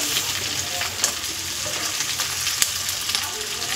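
Onion, red bell pepper and yellow capsicum sauté in a pan over a high gas flame for a Chinese-style chilli chicken, giving a steady, moderately loud sizzle with faint stirring clicks and no talk.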